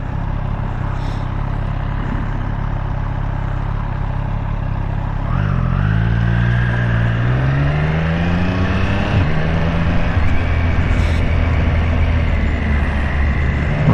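A 2021 Triumph Street Triple RS middleweight naked motorcycle being ridden: a steady engine drone that swells mid-way as the revs climb and shift through gears, with wind rush throughout.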